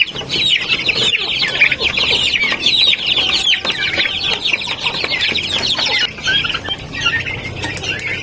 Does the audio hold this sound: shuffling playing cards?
no